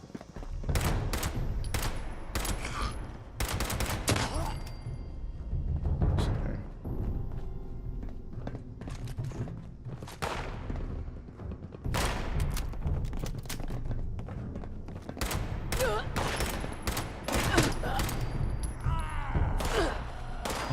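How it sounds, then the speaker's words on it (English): Gunfire in a Fallout 76 firefight, with repeated sharp shots and rapid bursts crackling close and loud in irregular clusters, broken by thuds and footsteps during brief lulls. "He's shooting at me."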